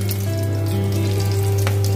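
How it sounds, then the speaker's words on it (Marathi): Cumin and mustard seeds sizzle in hot oil in a kadhai, a close, steady crackling fry that runs unbroken and alone. "आता या तेलामध्ये मी जे आहे थोडंसं जिरे, मोहरी टाकून घेतेय"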